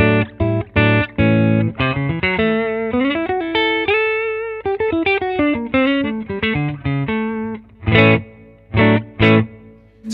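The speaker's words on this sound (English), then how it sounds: "So this is my clean sound." A clean electric guitar plays chords and single notes with a slight hall reverb from a Hall of Fame pedal, loud and close, with phrases separated by short gaps and a few stabbed chords at the end.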